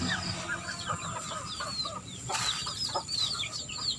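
Chickens cluck in a simple backyard coop with a netted enclosure and a dirt floor, several birds giving short overlapping calls close by with steady chatter and no talking.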